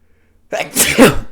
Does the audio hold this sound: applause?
no